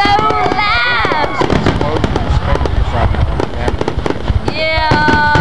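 Loud fireworks bursting in rapid, dense succession, with cracks and booms overlapping throughout, while excited voices exclaim and shout over the explosions.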